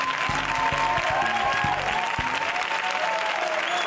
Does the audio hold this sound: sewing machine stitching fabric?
no